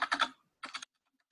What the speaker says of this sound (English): After typing 30, I am typing the enter key.